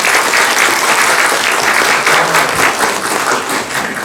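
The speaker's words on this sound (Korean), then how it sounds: "큰 박수 부탁드립니다." A film talk audience in a Korean cinema gives the interpreter a big round of applause, a loud, dense, continuous clapping from a full room lasting about four seconds.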